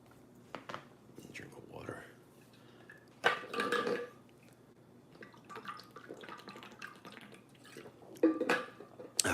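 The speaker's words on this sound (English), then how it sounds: "Drink of water." Someone takes a drink of water with quiet sips and gulps, soft swallowing and small wet sounds at close range, punctuated by faint clinks and breathy noises.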